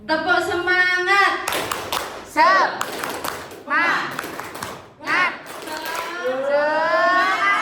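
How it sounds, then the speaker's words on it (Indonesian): A group of adults at a school guidance counselling workshop claps the rhythmic 'tepuk semangat' chant, with patterned bursts of hand claps mixed with loud chanting voices and child-like shouts, close and energetic. "Oke, tepuk semangat nanti, tepuk semangat."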